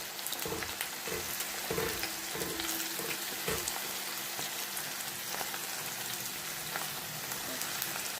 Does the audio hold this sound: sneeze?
no